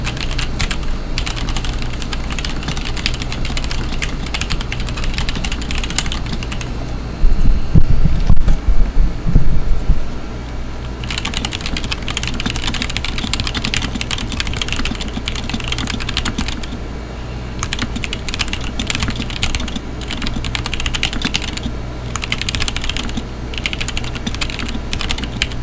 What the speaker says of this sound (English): I'll do a little typing demonstration, so you guys can hear what it sounds like